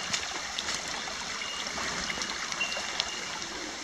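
Steady rushing of a flooded creek flows close by, an unbroken broadband wash with small trickling and gurgling details on top, no voices.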